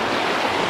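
The Rani Khola river streams along steadily in rural Chitwan, a loud, dense, continuous rush of flowing water heard up close with no voices.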